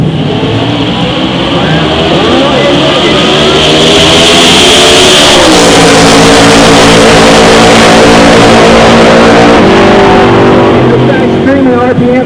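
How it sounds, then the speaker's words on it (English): Drag racing at a Midwest strip as a 1991 Fox body and a 1970 Chevy with a 406 block launch side by side: loud, close, continuous engine roar with rising revs and a gear change midway, sustained to the end. "Left lane is Jason Tapscall in that 70 Chevy with a 406 ball block."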